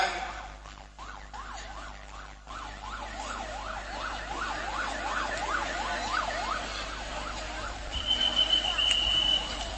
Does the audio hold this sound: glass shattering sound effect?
no